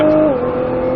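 A car engine on a race track drops pitch right after an upshift, then holds a loud, steady drone as it pulls through the next gear.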